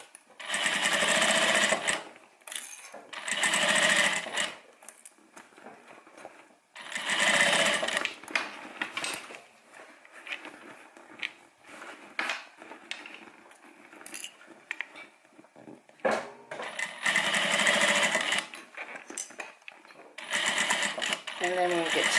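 A sewing machine stitches a homemade airliner cabin bag in several loud, rapid buzzing runs, broken by pauses where a person speaks nearby.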